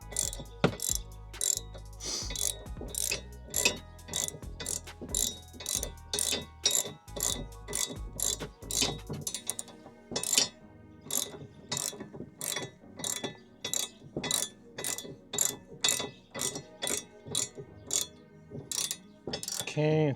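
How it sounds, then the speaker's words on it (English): Socket wrench ratcheting a bolt on a Cravot CyberRack E2 Plus e-bike rack, a long run of rapid, regular ratchet clicks in even bursts, close and loud, with a faint voice briefly heard. "you just want a good socket wrench, something that's pretty strong"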